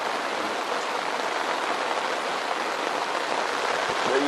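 Steady rain drums on an iron wall hot tent overnight, a dense, continuous hiss of drops close around with no pauses and no voices.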